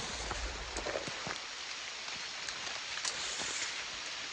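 Rain falls steadily in a forest with a dense, even hiss, and individual drops tap nearby now and then.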